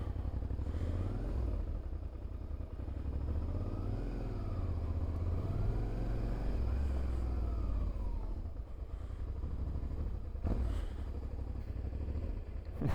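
A Harley-Davidson motorcycle passes on a road near Capbreton, its mid-pitched engine drone swelling and fading over steady traffic noise with no talking.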